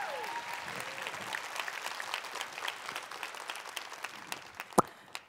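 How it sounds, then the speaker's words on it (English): Conference audience applause rising to welcome a speaker to the stage, a steady wash of many hands clapping with scattered louder claps and a faint vocal tone early on. "Please clap it up for Casey, who will join the stage soon."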